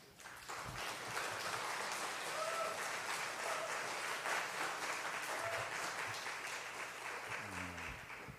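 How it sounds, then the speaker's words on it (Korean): Applause from a Korean church congregation welcoming a guest pastor to the pulpit, a broad steady clapping heard somewhat distantly across the hall, with faint tones and low noises beneath and a soft thump near the end. "나오실 때 큰 박수로 환영하겠습니다"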